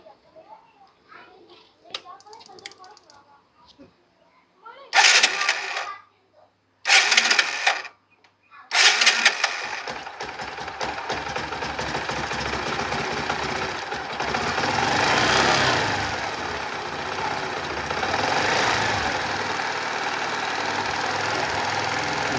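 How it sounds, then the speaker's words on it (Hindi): A motorcycle engine makes a few short bursts as it is cranked, then catches and runs as a steady, loud, close idle that continues to the end, with faint voices early on. "अब हम बाइक को स्टार्ट करते हैं।"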